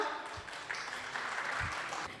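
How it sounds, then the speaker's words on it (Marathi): Audience applause for women contestants at a Haldi-Kumkum gathering: a soft, muffled patter of clapping heard at a distance, steady and brief. "जोरदार टाळ्या आपल्या सगळ्या मैत्रिणींकरता"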